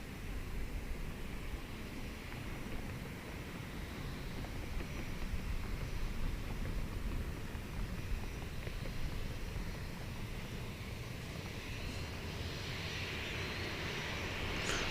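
The Korean Air Flight 82 airliner arriving from JFK at DFW airport produces a steady, broad jet engine roar heard at a distance, continuous and unbroken throughout, with no voices.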